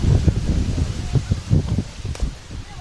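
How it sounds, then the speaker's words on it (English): Wind gusting across an outdoor softball field during a high school game, a steady low rumble that swells and fades in the background, with faint rustling throughout. "Wind blows a little more."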